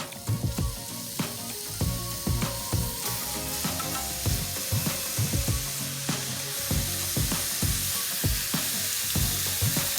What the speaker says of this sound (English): you want to put your frying pan on medium-low heat, and we're going to begin to add our ground beef in.